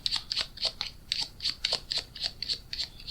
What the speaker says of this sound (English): I've got a deck of cards here, and I just want to give it a bit of a shuffle.